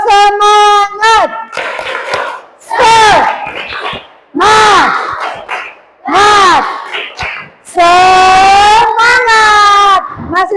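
A class of schoolchildren does a spirit clap together, chanting loudly in rhythmic unison bursts separated by short pauses, with the clapping largely buried under their voices.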